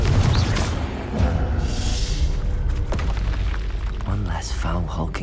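Repeated spell-casting explosions from Hogwarts Legacy combat, deep booming blasts layered over dense game music and effects, loud and continuous, with a voice calling out spells.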